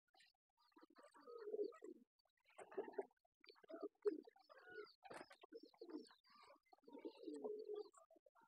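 Pigeons drinking water give repeated soft, low coos in bursts close by. A few faint chirps are mixed in, and no one speaks.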